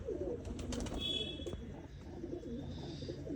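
A champion show pigeon coos amid other birds, with soft repeated calls and light chirps close by over a steady background of birdsong.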